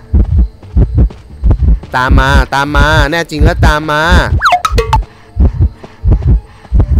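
Heartbeat thumps from the Identity V video game pulse in a steady, loud low rhythm, while excited speech and a rising tonal game effect sit over them in the middle of the stretch.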